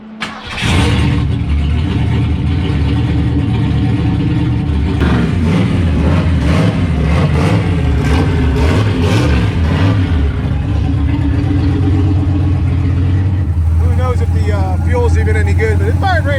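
A budget turbocharged Fox Body Mustang with a GT40 engine and speed density setup fires up and runs loud and close, a rough rumbling idle swelling into repeated revs, with voices talking over parts of it.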